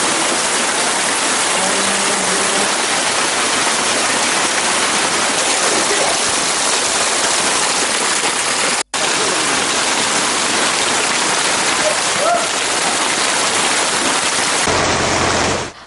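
Heavy monsoon-type rain pours down steadily and loudly in Sri Lanka, a dense continuous hiss that runs the full length with a single brief cut partway through.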